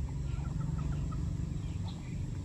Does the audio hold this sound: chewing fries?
no